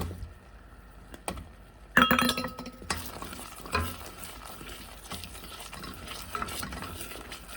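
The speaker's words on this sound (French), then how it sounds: "Et ensuite, on va rajouter le beurre." Butter dropped into hot caramel made from sugar, then stirred: a sudden burst of sizzling and bubbling that settles into a steady fizz, with a spoon scraping the pan, close and with no talk.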